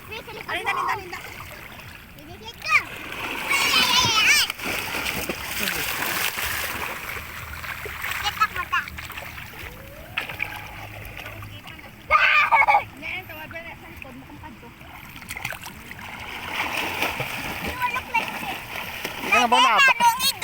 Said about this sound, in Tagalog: Si Daddy pala swimming